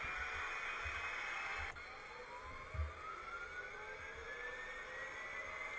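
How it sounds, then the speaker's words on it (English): A jet aircraft passes outside, its whining engine tone steady and faint-to-moderate behind the room, with a drifting pitch and a soft click partway through, no voices. "Don't mind the very loud jet"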